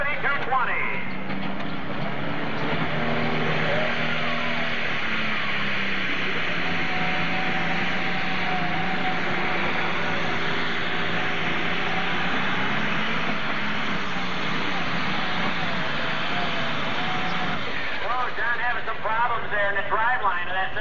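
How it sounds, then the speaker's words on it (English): A Magnum 7220 tractor at a 1995 NTPA tractor pull in Fort Recovery roars with a continuous, heavy engine drone throughout, while an announcer talks over it. "Had to get on the left-hand brake real hard to keep that tractor in bounds"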